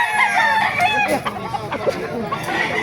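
Several chickens and roosters call and crow over a busy poultry market background in Baliuag, with a voice murmuring faintly among them.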